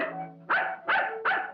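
A dog gives three sharp, close barks in quick succession, each loud and evenly spaced, following a brief whine-like tone.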